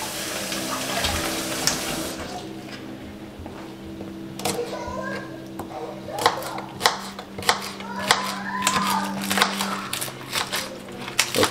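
Chunks of black bream fish are rinsed under running water in a kitchen, a steady close stream with splashing and handling clatter, and a person talking over it.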